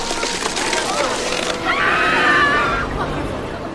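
A shrill, wavering soundboard-style scream effect cuts in at mid-clip and holds for about a second over a dense, noisy bed of chatter and commotion, loud throughout.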